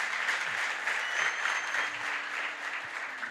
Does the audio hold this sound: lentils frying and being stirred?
no